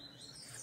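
Pet papa-capim or coleiro songbird kept as a mated pair, giving bright, continuous chirping and high twittering calls up close, alone with no talk.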